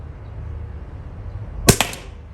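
A PepperBall TCP launcher fires an HP68 round that strikes its target: one sharp, loud crack over a low outdoor rumble, followed by a quick smaller impact echo.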